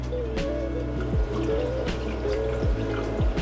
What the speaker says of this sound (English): pour a little bit into this tank